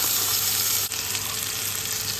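Onion, ginger and garlic hit hot mustard oil in a wok, giving a dense, steady sizzle that holds loud and even throughout with no voices.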